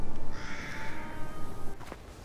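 Bird call in the video game Bramble: The Mountain King, a single crow-like caw lasting about a second, fairly clear against a soft ambient game background.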